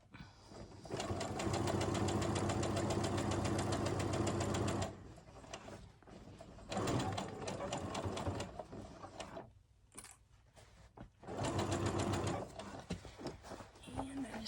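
A sewing machine stitches a quarter-inch seam in steady whirring runs, loud and close, with short pauses between bursts of stitching.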